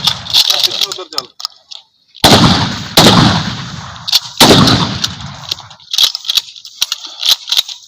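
Rifle gunshots at outdoor firing practice, several sharp loud reports with echoing tails spaced a second or two apart, among shouted range commands and talk.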